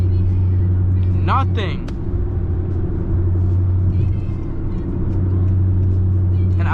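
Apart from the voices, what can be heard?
Honda Accord 1.5 LX car engine while driving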